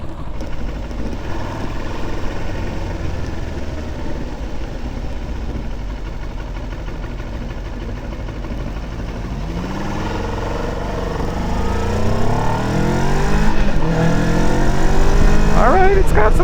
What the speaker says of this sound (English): Starts up, it has a nice tone. It's reminiscent of a Versys, but a little bit louder.